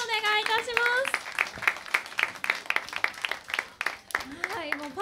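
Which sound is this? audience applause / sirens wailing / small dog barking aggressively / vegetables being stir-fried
audience applause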